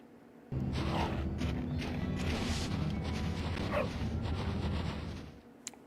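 A dog barks and whimpers in the video game Bully amid a dense rumbling game mix that runs for several seconds before fading, with a brief sharp click at the end.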